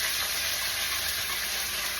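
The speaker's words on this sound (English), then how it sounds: "And let this saute for a minute." Scallions and other chopped ingredients sauté in hot oil, giving a steady, even sizzle that holds at the same level throughout with no pauses or talking.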